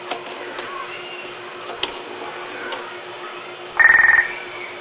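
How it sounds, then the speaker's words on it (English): A short electronic ring from a TA-838 field telephone bursts out near the end, a brief buzzing trill over a quiet line hum. "It's ringing the TA838 here."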